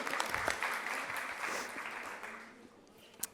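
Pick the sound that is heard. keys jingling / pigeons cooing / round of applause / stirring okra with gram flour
round of applause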